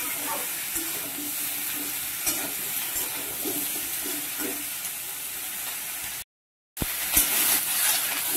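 Ridge gourd and ivy gourd frying in a pan for a Bengali-style mixed vegetable dish make a steady, close sizzle and hiss with light stirring, broken by one brief silent gap near the end.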